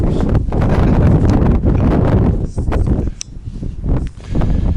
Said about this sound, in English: because it's gotten a little chilly with the wind